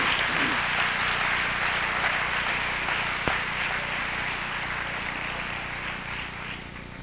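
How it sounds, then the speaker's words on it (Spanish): A church congregation applauding, a dense and steady wash of clapping that carries on loud throughout and tapers slightly toward the end. "Denle un aplauso al Señor."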